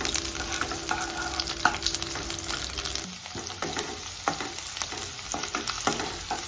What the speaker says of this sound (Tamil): எண்ணெய் சூடாயிருச்சு வெங்காயம் கேப்சிகம் போட்டு நல்லா வந்து வணங்குங்க